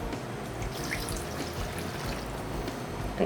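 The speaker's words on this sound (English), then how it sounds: "So we're gonna use red wine vinegar" Red wine vinegar pours into a vessel for a quick vinaigrette, a soft continuous liquid trickle heard close over a steady background hum, with no talking.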